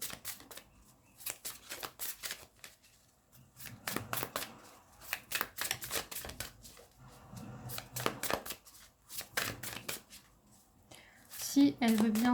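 Tarot cards shuffled by hand in a series of dense, crisp riffling bursts, fairly close, with quiet pauses between runs and a voice speaking briefly near the end.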